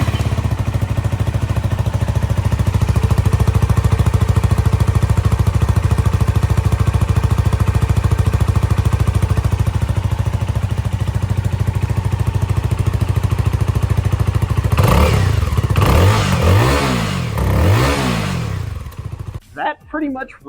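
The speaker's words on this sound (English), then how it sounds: "I'm gonna give you guys an exhaust clip" A CFMOTO 300NK motorcycle engine drones steadily at idle, then revs sharply several times in quick bursts before dropping off, loud and close.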